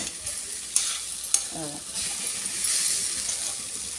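Poha stirred and sautéed in a pan, a soft continuous scraping and light sizzle with a couple of sharp clinks of the spoon against the pan.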